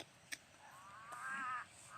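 A crow caws on a forested mountainside, a single drawn-out call rising from the middle distance after a sharp click, heard against quiet outdoor ambience.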